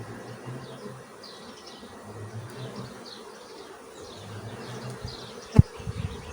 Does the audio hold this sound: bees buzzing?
yes